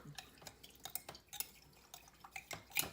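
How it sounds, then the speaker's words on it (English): Boric acid and alcohol are stirred together in a small dish, giving faint, close liquid clicks and light taps against the container in an irregular rhythm. No one speaks. "I'm mixing up my boric acid and alcohol"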